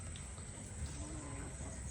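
A single low, faint moo from farm cattle rises briefly over a quiet outdoor background hum.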